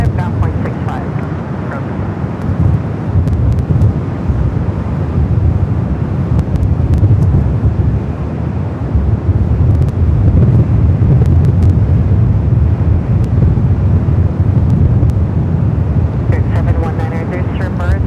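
Strong gusty wind buffets the microphone at Los Angeles airport, a steady loud roar with rumbling surges that runs unbroken from start to finish.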